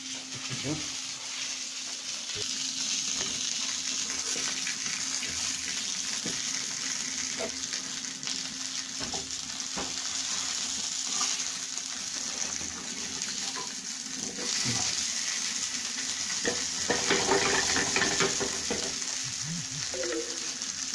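Food fries in a hot pan while burger patties and egg are cooked on a barbecue, a steady close sizzle with crackles and occasional stirring scrapes, and faint talk in places.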